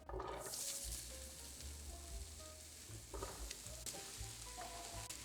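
Onions and sweet potato sizzle and fry in a tablespoon of olive oil in a pan, a steady close hiss broken by occasional crackles and stirring clatter, with no talk.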